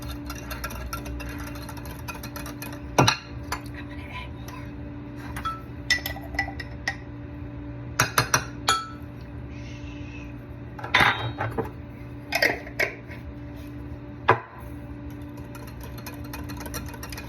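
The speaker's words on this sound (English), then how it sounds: "Stir it up good." A spoon stirs pumpkin cake batter in a bowl, making scattered sharp clinks and taps against the bowl over a low steady hum, with no talking.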